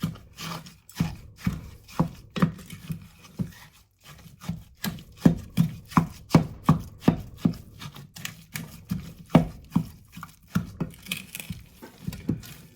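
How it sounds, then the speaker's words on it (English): A wooden spoon works through raw Wagyu ground beef mixed with egg in a bowl for White Castle-style sliders, giving a steady run of soft, dull thuds and scrapes, about one every half second, close up with no talking. "now we are going to mix this with a wooden spoon"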